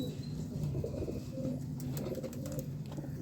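Pigeons coo in soft, repeated low murmurs, with a steady background of cooing and faint chirps close by in a loft with an adult pigeon.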